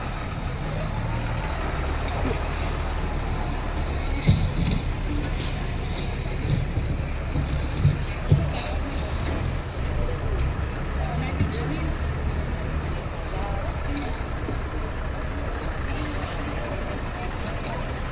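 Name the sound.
police truck passing in parade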